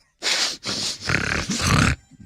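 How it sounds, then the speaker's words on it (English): Four loud, close bursts of nasal sniffing come in quick succession with brief gaps between them, rough and breathy like hard sniffles or snorts, heard alone without talk. "Sniffles."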